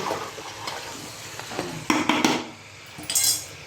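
Chicken biryani ingredients are stirred in a pot with a metal spoon, giving irregular scraping and clinking strokes, a couple of louder clattering bursts, over a light sizzle, with no talking.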